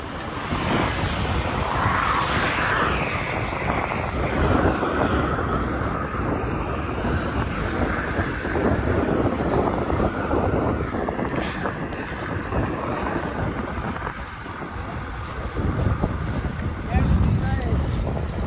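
Strong wind buffets the microphone nonstop in a rough, blustery roar with gusts rising and falling, and indistinct voices underneath, at Mogal Dham temple in Bhaguda, Gujarat.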